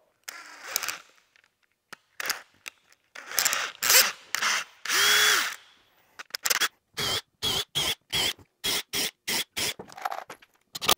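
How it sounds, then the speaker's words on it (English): A power drill drives drywall screws into a door head jamb during a secret bookcase door build. Several longer whirring runs come first, then a quick string of short, even trigger pulses, all close and with no voices. "I'm also gonna go ahead and put some drywall screws through."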